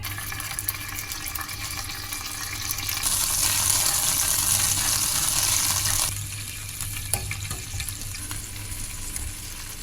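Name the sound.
frying soffritto of oil, garlic and anchovies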